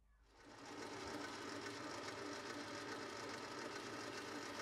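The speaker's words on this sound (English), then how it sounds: "I'm using a cutting tool to shape the end" A lathe cutting tool shapes the end of a hexagon bar stock, with the machine spinning up into a continuous, even mechanical whir that holds steady throughout. It sounds fairly close and plays without talk.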